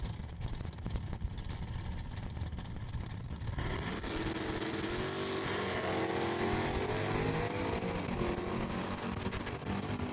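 A 1970 Plymouth Satellite drag car makes its run at Saskatchewan International Raceway, its engine roaring loud and close before climbing in pitch as it accelerates away, strong and continuous throughout.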